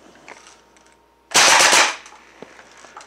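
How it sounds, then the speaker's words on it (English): An Umarex EBOS electronic BB gun, a CO2-style burst-fire pistol, fires a rapid 4-shot burst, heard as one loud, compact rattle of shots in quiet surroundings. "Now let's crank it up to a 4-shot burst."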